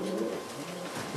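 Racing pigeons coo in a breeding loft, a soft steady murmur of several birds close by with no voices over it.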